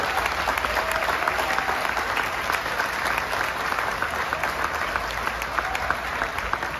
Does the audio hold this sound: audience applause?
yes